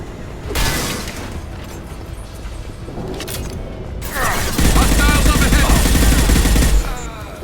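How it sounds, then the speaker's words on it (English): Gunfire in the video game Mass Effect 2 comes as loud, close bursts of shots and heavy impacts, with a thicker, sustained volley toward the end and voices faintly mixed in. "Firing a high-impact shot."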